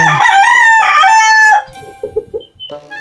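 A chicken calls loudly up close in a long, strained, crow-like cry, followed by a few short clucks and faint chirps in the farmyard while a lost chick is being sought.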